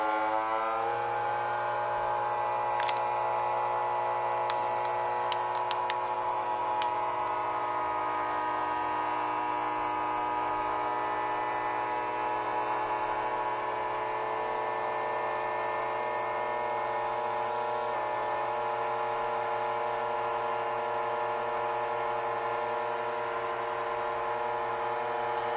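A FoodSaver vacuum sealer runs on its dry setting with a bag of vegetables, giving a steady close electric hum and whir that holds evenly throughout, with a few faint clicks early on.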